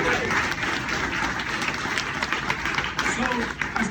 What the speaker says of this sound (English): Big round of applause for Killian and all the Oscar team.